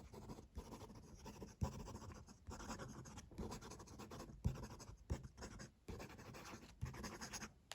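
A Diplomat Excellence A2 fountain pen, which has a stiff nib, writes fast on paper. Its scratchy strokes come close and clear in quick bursts with brief pauses between them.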